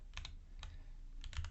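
Typing on a computer keyboard while writing a Python file in VS Code, with a few quick clusters of light, close key clicks separated by short pauses, faint and without speech.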